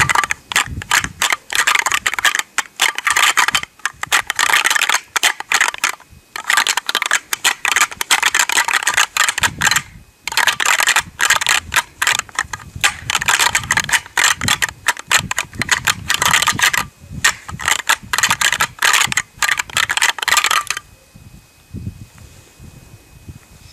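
Rapid, hard clattering and grinding as antlers are rattled together to call deer, in bursts with brief pauses, close and loud, then stopping into quiet outdoor ambience.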